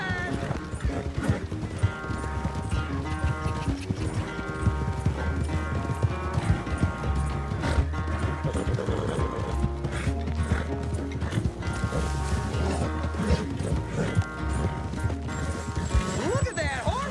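Horse hooves clip-clop steadily in Red Dead Redemption 2, a continuous rhythmic plodding under game music and background voices.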